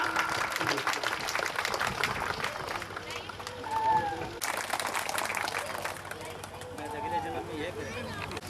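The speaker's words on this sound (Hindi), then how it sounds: "जोरदार तालियों स्वागत कीजिए इन बच्चों का" Applause at a school annual function welcoming children on stage, clapping mixed with crowd hubbub and voices talking over it, fairly loud and continuous with shifting crowd noise.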